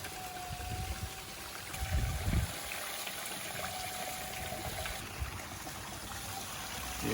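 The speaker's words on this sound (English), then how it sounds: "Yeah, just way too much water coming out of that." Water flows steadily out of a small red gold-prospecting trommel, making a constant outdoor rushing and splashing wash with a few low thumps and no talk.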